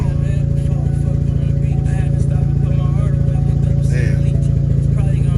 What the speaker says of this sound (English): Got the idle right. It ain't got no cat or muffler on there. That's just headers.